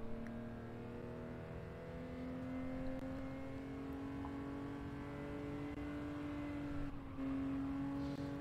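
Race car engine in Gran Turismo 7 accelerating steadily, a loud, continuous droning whine that rises slowly in pitch with a brief dip near the end, like a gear change.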